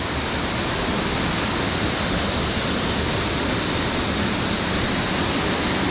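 Steady, loud roar of a waterfall as water forced under a road aqueduct drops down at Harmby, a continuous broadband rush heard close up with no other sounds.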